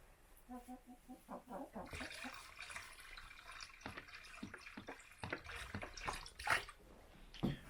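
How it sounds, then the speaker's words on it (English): Water is poured to top up a homestead animals' drinker on an icy, snowy day, sounding as an uneven trickle and splash with clinks from the container, while someone talks and a chicken makes occasional noises nearby. "Let's top up their water."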